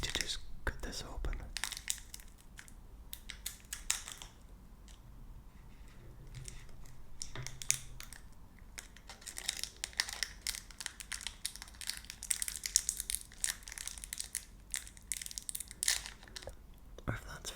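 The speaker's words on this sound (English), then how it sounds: "These wrappers are incredibly crinkly, and I'm trying so hard not to make it too loud." Crinkly Cadbury Roses candy wrappers are handled and cut open up close, with bursts of crackling and crumpling plastic that come and go in clusters between quieter pauses, with faint soft speech under the noise.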